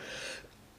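A single short cough, close and breathy, quickly fading out.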